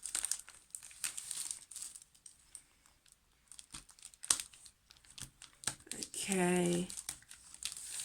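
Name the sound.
cutting open packaging softly with strokes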